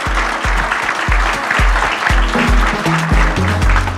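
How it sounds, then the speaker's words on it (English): An audience applauds steadily at the launch of an eco drive cover, sustained clapping filling the room, with a low repeating electronic tone running underneath. "I think it deserves another round of applause"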